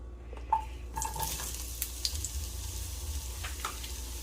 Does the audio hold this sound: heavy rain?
no